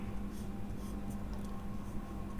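During a chemistry lecture, a chemical formula is written out in several soft, scratchy strokes, heard faintly over a steady low electrical hum.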